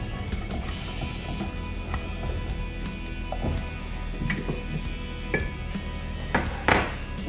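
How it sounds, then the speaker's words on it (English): A utensil scraping and clinking against a pan while egg foo young gravy is stirred, with intermittent metallic taps and a low background hum, no voices. "Okay, cooking and stirring."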